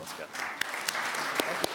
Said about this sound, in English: join me in a round of applause for our speakers